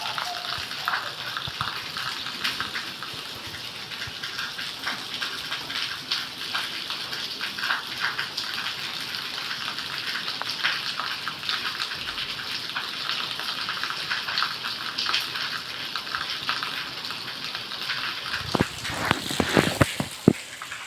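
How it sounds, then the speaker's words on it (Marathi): Dense, steady hiss of heavy monsoon rain falling hard and continuously in Ahmednagar, with scattered louder patters and drips near the end. "छान पाऊस चालू आहे"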